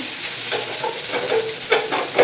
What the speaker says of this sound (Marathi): मध्यम गॅसवरतीच हे घावणे मी बनवून घेतलेले आहेत